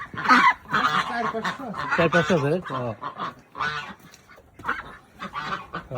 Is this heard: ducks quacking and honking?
yes